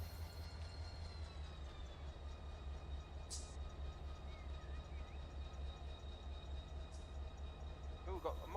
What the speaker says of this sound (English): It's just the engine sounds on this one, Keith.